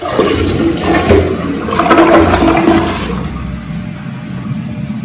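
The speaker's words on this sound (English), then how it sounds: "I just basically want to make sure that there's no leaks when I flush it" A newly installed toilet flushes loudly up close, a rushing swirl of water that peaks and then drains into a softer refill hiss.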